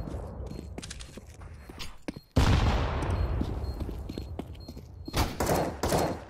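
Gunfire in the GTA 5 video game during chaotic play, with scattered thuds and footsteps, then a loud burst of rapid shots followed by more bursts near the end, fairly close and loud.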